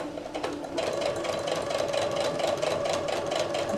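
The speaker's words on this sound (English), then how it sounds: "as I am stitching this" A sewing machine stitching binding onto a crochet blanket, running as a steady, continuous mechanical whir with fast rhythmic pulsing, close and fairly loud with no talking.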